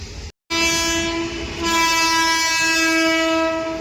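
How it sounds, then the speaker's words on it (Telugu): A goods train rolls past at close range, its horn blaring in a long, loud, sustained blast with rumbling wagons and faint clatter beneath, no one talking. "Goods train guys."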